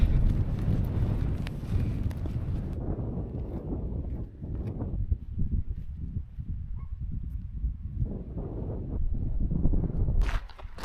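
Strong wind on an open mountain top in the Langdale fells buffets the microphone in a loud, continuous low rumble that gusts and eases throughout, with no voices.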